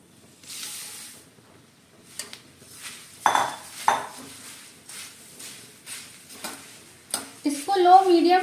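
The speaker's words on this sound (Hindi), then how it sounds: "अब हम इसमें ये जो हमने मुरमुरे लिए हैं एक कटोरे में, ये भी हम इसमें डालेंगे।" Puffed rice tipped into a pan of roasted spices, with metal scrapes, clinks of a spoon and light stirring rustles in bursts, ending in a soft sizzle and rattle, fairly close.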